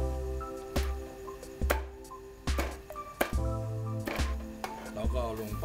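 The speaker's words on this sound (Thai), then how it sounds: "ใกล้สุกเราก็จะเริ่มหั่นหัวครับท่านผู้ชมเอาหัวมาหั่นเหมือนเดิม" Knife chopping grilled squid heads on a cutting board, a series of sharp, evenly spaced thuds about once a second, close and clear over a steady musical background, with someone talking.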